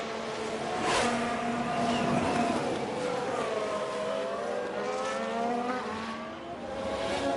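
Ferrari Formula 1 car in the F1 Manager 22 game at the Bahrain Grand Prix, a steady high engine whine with shifting pitch sweeping through the whole stretch, loud and continuous with no talk.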